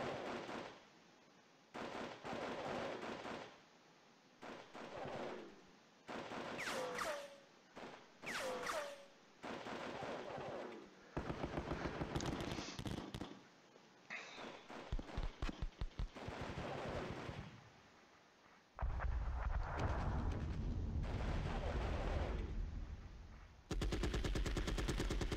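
Bursts of machine-gun and rifle fire from the Panzer Battles Normandy war game come in repeated rapid volleys with brief gaps, fairly loud and without talk.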